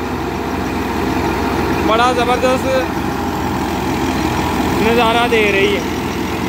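A Massey 240 tractor drives a wheat thresher in Faisalabad, Punjab, making a continuous heavy mechanical drone while someone speaks over it.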